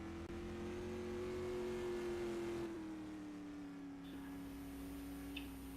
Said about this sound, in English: driving the number 77 BreezeGraphics.com Supermodified